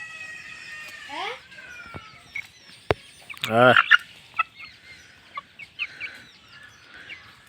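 Watercock birds calling close by: a loud gobbling burst followed by scattered clucks and short calls, with brief sharp knocks in between.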